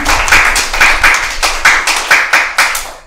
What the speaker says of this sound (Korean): 저희의 오늘 게스트를 모셨는데 박수로 맞아주시길 바랍니다